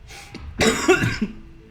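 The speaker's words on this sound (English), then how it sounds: "Oh gosh, coughing again." A single burst of harsh coughing, close and fairly loud, with a quieter throat sound before it, during Minecraft gameplay commentary.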